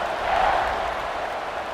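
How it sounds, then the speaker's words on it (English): Stadium crowd buzzing at a Houston vs Baylor college football game, a steady, broad roar of many voices filling the space. "this crowd is buzzing after that last score"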